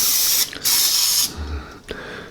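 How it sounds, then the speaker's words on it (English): Two hissing bursts of aerosol spray land on paper towels, a longer one and then a shorter one, close and loud, with a little rustling afterward. "We're going to take some of this stuff and spray it into the paper towels"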